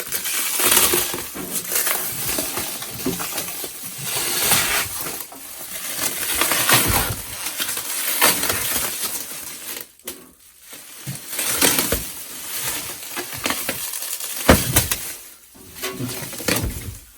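Cellophane shipping wrap is pulled and torn off an IBM Personal Computer 5150 and its expansion unit, giving bursts of crinkling and crackling close up with brief pauses between pulls.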